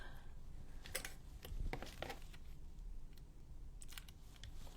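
Close, quiet snips and crisp crunches of scissors cutting paper down to size, in a scattered series of cuts with brief pauses between them.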